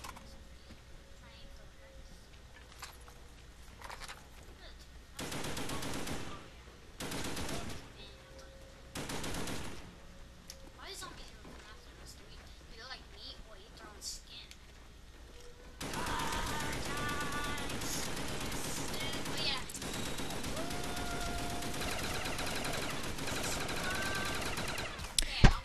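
Machine gun fire in Call of Duty: Black Ops zombies on the Der Riese map. Short bursts rattle over a quiet background, then a long steady stretch of shooting follows, with voices talking now and then.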